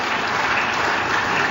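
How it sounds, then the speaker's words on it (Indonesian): An audience at an Indonesian political party event claps steadily and loudly, a continuous dense burst of applause throughout. "Kita berikan tepuk tangan yang meriah buat beliau."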